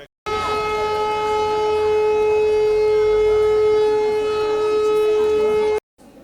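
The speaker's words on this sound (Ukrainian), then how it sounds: "Під час зборів було оголошено повітряну тривогу" An air raid siren sounds during a school meeting with parents, a loud, steady, droning tone held for about five and a half seconds before it cuts off abruptly.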